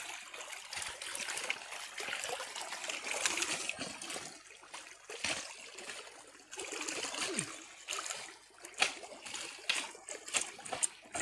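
Water rushing through a freshly cleaned irrigation channel in a field, a steady, faint splashing and trickling flow with small bursts of splatter, continuous and fairly close.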